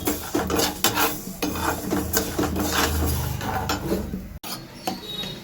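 Mung dal being stirred and fried in a pan, with steady scraping and clinking of a utensil against the metal, close and continuous, with no talking.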